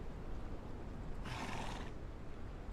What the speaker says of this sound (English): The horse making horse noises.